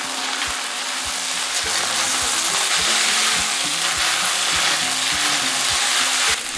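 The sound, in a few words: beef stir-frying in a pan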